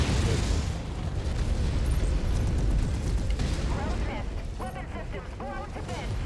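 A mech's ammunition cooks off in the MechWarrior 5 video game with a sustained rumbling explosion and heavy low booms, followed by crackling debris. A voice talks over it.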